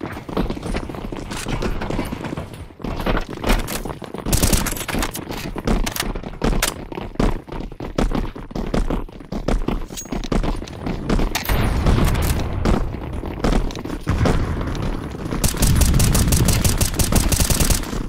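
Dense, rapid gunfire fills a CS2 Zombie Escape round as weapons fire at zombies, loud and close, with continuous automatic bursts and sharp cracks running without pause through the whole stretch.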